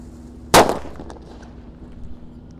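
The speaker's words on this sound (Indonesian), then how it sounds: "Ini mercon yang menggelegar suaranya." A single sharp, loud firecracker bang with a short rumbling decay, followed by faint outdoor background noise.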